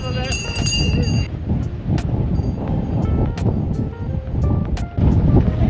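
Strong wind gusting across the seafront promenade at Hunstanton, blowing sand in a continuous loud rush with buffeting against the microphone, and brief voices now and then underneath.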